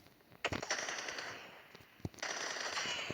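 Video game gunfire: bursts of automatic shots over a steady background hiss, with a louder single crack near the end, no talk.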